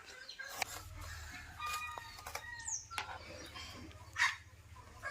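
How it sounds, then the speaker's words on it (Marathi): Chickens being fed in the morning at a rural Konkan village home, clucking faintly at a distance, with a dog barking now and then. "मी कोंबड्यांना खायला घालतो"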